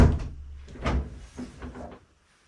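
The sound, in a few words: hotel kitchenette fridge door being opened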